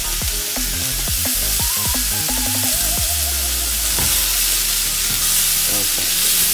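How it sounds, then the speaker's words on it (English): Beetroot, sweet corn and onion sauté in a pan with a loud, continuous sizzle and some stirring scrapes, close up and without talk. "Nicely sauté them."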